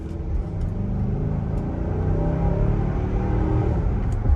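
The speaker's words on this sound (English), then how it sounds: "Just to hit the gas pedal down on such a massive size vehicle and it to get up and go like that" Infiniti QX80 luxury SUV under full throttle, a steady low engine rumble that builds slightly as it pulls, close and continuous with no talking.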